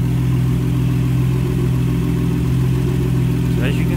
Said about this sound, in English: Third time starting it up just to make sure everything's on there properly.